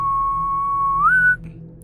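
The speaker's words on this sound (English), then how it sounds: "All of a sudden, I could hear a loud whistling." A single loud, clear whistle holds one steady pitch for about a second, then bends upward and cuts off abruptly, followed by a brief quiet tail.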